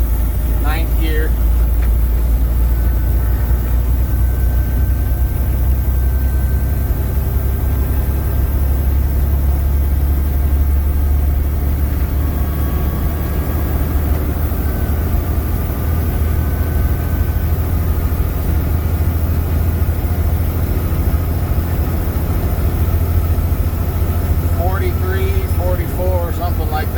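A heavy truck with a deleted Maxxforce 13 diesel engine pulls up a 2-mile 10% grade in 9th gear, a loud steady low engine drone under a speaking voice, with faint whine tones drifting through.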